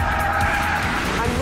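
A diesel BMW 535d M Sport or Jaguar XF saloon revs hard out of a corner on a racing circuit, its engine note held steady and loud with a touch of tyre squeal, under a voice.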